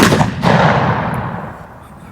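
A small medieval artillery gun fires once, a loud close boom that rolls and decays slowly over about two seconds outdoors.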